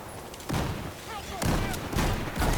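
Bursts of rapid gunfire erupt repeatedly, loud and sharp, with lighter sounds between the volleys.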